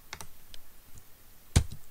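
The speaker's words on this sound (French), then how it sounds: "La combinaison du clavier pour supprimer une ligne." A few separate computer keyboard keypresses click lightly at close range, with one sharper, louder key strike near the end of a quiet stretch; no one speaks.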